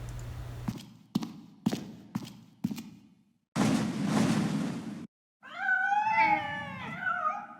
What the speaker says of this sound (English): Yep, those are cats.